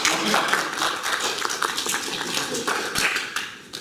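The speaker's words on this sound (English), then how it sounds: "Give him an applause." Scattered audience applause at a Joomla certification presentation, a steady patter of clapping hands lasting the whole stretch, moderately close, with no talk over it.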